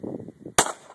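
A single sharp revolver gunshot cracks out loud and close after a brief murmur, its report ringing off briefly.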